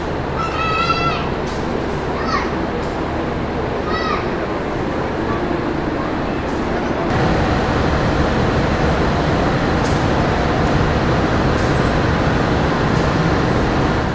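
KA Progo executive passenger train at Pasar Senen station in Jakarta: a constant loud rumble with high, wavering squeals early on, then a heavier, rougher roar for the second half.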